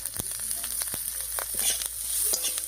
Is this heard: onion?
yes